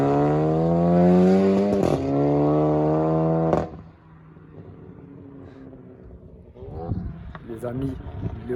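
A Volkswagen Golf 7 GTI with a Stage 3 tune of about 425 hp and a Remus exhaust drives hard, a loud rising engine howl that stops sharply around mid-clip, followed by quieter rumbling and a few more bursts of revving.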